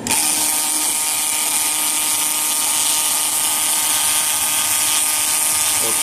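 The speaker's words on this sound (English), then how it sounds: "This is just a cheap transfer pump off of Amazon." A cheap battery-powered transfer pump, running off a small lawnmower battery, whines steadily at close range, a constant high-pitched motor buzz with no breaks.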